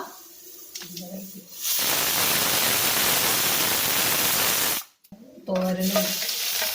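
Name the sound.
dried red chillies frying in oil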